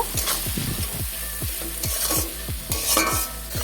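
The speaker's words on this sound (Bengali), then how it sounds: "এর মধ্যে দিয়ে দেবো পেঁয়াজ কুচি ও লঙ্কা কুচি এরপর ভালো করে ভেজে নেব" Chopped onion and green chilli stirred in hot oil in a pan, with a steady close sizzle broken by repeated rhythmic scrapes of a spatula, about two per second, no voices.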